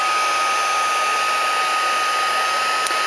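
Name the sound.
embossing heat gun melting embossing powder on vellum cardstock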